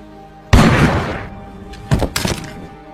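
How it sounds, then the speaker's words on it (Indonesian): A shotgun blast in a dramatic film scene, a single heavy boom followed by a second burst of sharp impacts a moment later, loud and close. "Jack lah yang lebih dulu menembak mati Pugarty dengan shotgun milik sang ayah"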